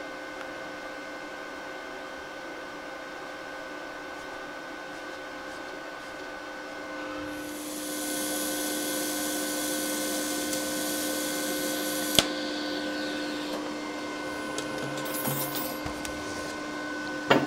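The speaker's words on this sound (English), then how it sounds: "it's tacked on all four spokes" Steel tack-welded onto the four spokes of a pulley, part of a flat-belt slowdown for a 1930s Craftsman bandsaw: a steady shop hum, then a sustained hissing, crackling arc for about four seconds, ending in a sharp click, with no talk.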